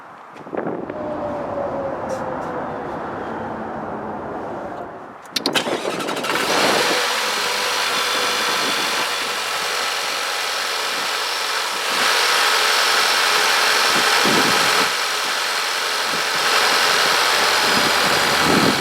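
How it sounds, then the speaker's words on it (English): A 2017 Jaguar F-Type SVR's tuned engine comes to life midway, a sudden loud roar that settles into a steady, rumbling run, preceded by quieter ambient noise. "this engine is tuned a little bit to produce a little bit more horsepower than the standard R model"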